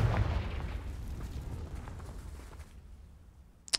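A Confringo spell explosion in the video game Hogwarts Legacy, heard as a fading low rumbling boom that trails off into quiet, with a brief sharp sound at the very end.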